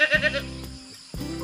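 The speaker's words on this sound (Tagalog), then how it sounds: "Yung kambing natin na pinalabas natin." A goat bleats in two loud, wavering calls with a short quiet gap between them, close by on a farm where a freshly released goat is settling in.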